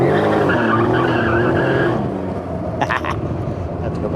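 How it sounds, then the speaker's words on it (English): A Can-Am Ryker's rear tire shrieks in a loud, sustained burnout squeal close by, easing off after two seconds into rougher scrubbing noise with engine rumble. "I'm just gonna roast this rear tire off until it's gone."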